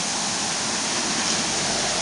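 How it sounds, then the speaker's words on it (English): Running water beside a road outside Sfinari, Crete, on the way to Kabos, giving a steady, close, broadband rush that continues without break and without voices. "a rare sight of running water"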